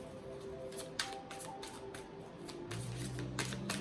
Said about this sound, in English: Just my little anecdote while I finish shuffling.